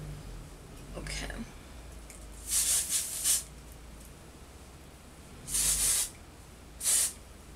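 A heavy-duty aerosol hairspray hisses in several short bursts close by during a blow-dry, two longer sprays then a quick final one, with quiet pauses between.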